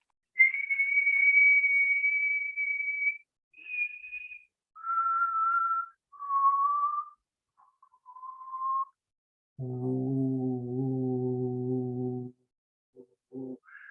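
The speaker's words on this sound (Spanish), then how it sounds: "Estoy silbando. Y si a ver si puedo silbar más agudo." A person whistles a series of clear tones, first steady and high, then stepping lower in short phrases, ending with a buzzy low stretch.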